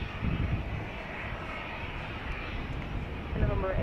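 An airplane approaching to land at Dallas Love Field makes a steady, distant engine rumble and whine, with radio chatter over it, building slightly toward the end.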